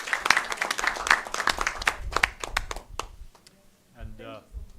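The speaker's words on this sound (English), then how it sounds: "Let's all give him a round of applause." Conference audience applauding at a carbon industry event in Nairobi, a dense burst of many hands clapping that thins out and fades after about three seconds, followed by a speaker's voice.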